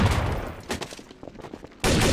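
Rapid bursts of rifle gunfire in Counter-Strike: Source on the de_dust map, several volleys crackling close with a short pause before a loud final burst, no talk.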